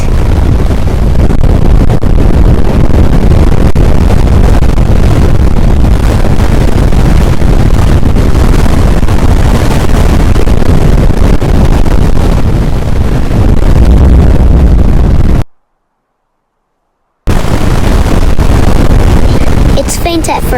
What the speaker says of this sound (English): I see trees totally bending as the wind speeds hit 100 plus